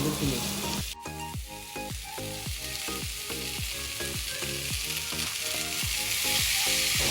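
Pasta is added to a frying pan and stirred, with a continuous close sizzle and regular, repeated scraping strokes from the stirring running through the whole stretch.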